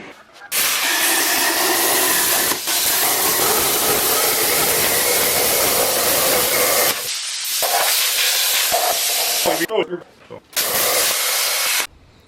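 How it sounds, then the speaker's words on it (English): Plasma cutter slicing C notches into a Chevy OBS truck frame, a loud continuous roaring hiss that runs for several seconds, breaks off briefly, then resumes with sputtering stops near the end. "You guys are gonna see some B-roll of me plasma cutting this thing out"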